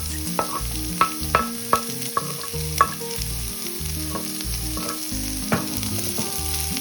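Leftover rice with carrots and green beans stir-frying in a pan, a steady sizzle broken by frequent scraping and clanking strikes of a spatula against the metal, close and fairly loud with no talking.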